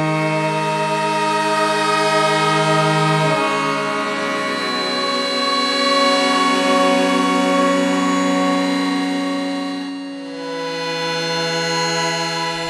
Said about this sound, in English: actually demonstrates one of the unique features of this synth, which is trans waves, which is basically just Ensoniq's way of saying wavetables.